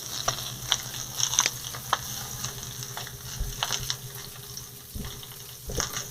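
Scallops sear in a hot pan with a steady low sizzle and spitting crackle, punctuated by occasional clinks and scrapes of the pan, with no voices.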